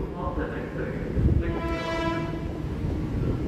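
The Bogowonto passenger train rumbles arriving at Jatinegara station in Jakarta, a horn sounding midway, and a voice is heard over the rolling noise.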